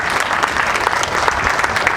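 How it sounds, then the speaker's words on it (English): A crowd at an employee appreciation party bursts into brisk, continuous applause, many hands clapping together at close range for a couple of seconds. "So, Signe Linville, please give her a round of applause."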